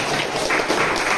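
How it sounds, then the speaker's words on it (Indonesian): Students in a classroom at SMAN 1 Gunung Putri give a short burst of hand-clapping applause, fairly loud and close, with no talking over it. "Kita kasih tepuk tangan dulu."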